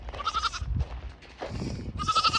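Goats on a farm bleat in several loud, close, nasal calls, with short gaps and some rustling between the cries.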